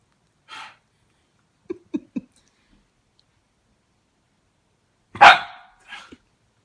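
Shiba Inu dog giving a few short, sharp protective barks and huffs close by, separated by silence, with a burst of soft clicks and breathing sounds in between.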